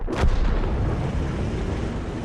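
An M44 artillery gun fires once in a video game, a sharp heavy boom right at the start followed by a long rumbling decay that fills the rest of the moment, with no voices over it.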